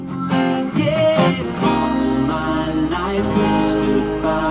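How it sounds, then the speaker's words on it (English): Acoustic guitar chords are strummed and left to ring out one after another, each sustained for a beat or so, with a full, close tone and overlapping decay. "For that pattern, we'll simply play each chord and sustain it like this."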